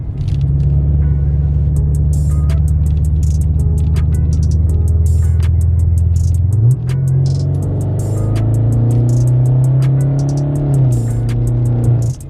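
A tuned BMW 650i with a Stage 2 tune, its engine droning loud and steady, then stepping up in pitch as it revs, holding a higher note before easing down slightly, heard up close with no talking.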